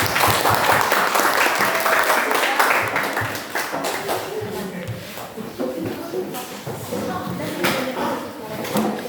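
Sustained applause for a student presentation group in a classroom, many hands clapping densely and loudly at first, then thinning slightly with shuffling and scattered claps over room murmur.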